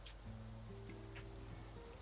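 Soft, even rain hiss runs through a brief moment of a fantasy roleplaying game session, blended with quiet sustained background music tones.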